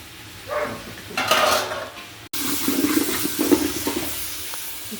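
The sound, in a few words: washing curry leaves, mint and coriander under running water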